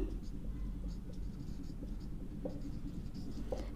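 Chalk or marker writes on a board during a twelfth-grade commerce maths lesson on linear regression, with soft, intermittent scratches and taps over a low room hum and no speech.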